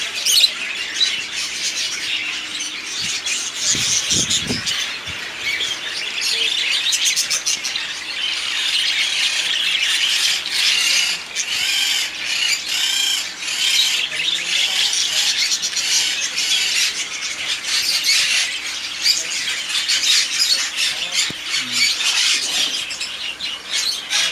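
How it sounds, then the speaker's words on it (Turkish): Budgerigar squawking and chattering continuously, a busy stream of harsh chirps and squawks, close by with a few soft thumps early on. "İngiliz muhabbet kuşu."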